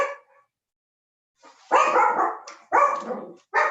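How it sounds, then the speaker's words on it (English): Dogs barking indoors, a couple of sharp close barks after a brief yip and a pause, loud and clear with no talking over them. "I'm gonna put you on mute while my dogs bark."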